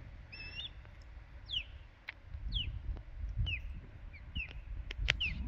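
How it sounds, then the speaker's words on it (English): A bird calls repeatedly outdoors in Wyoming with short, rising chirps spaced a second or so apart over a low rumbling background. "Do you hear that beautiful bird?"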